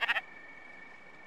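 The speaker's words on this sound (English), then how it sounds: "Let's see this sheep." A sheep from the video game Spiritfarer gives one short, quavering bleat in three quick pulses. A faint steady tone lingers afterward, and no voices are heard.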